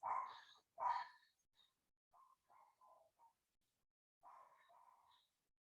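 A pet dog named Lily barks indoors at a delivery arrival, two sharp barks up front followed by softer, shorter yips and whimpering bursts, fairly distant and faint with quiet gaps between.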